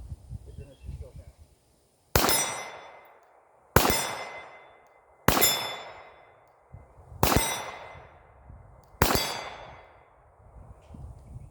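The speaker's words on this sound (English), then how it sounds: "now we're just going to shoot from standing" Five sharp Glock 34 pistol shots are fired at a steady pace by a shooter standing on a range. Each loud, close crack carries a ringing, clanging tail that decays before the next.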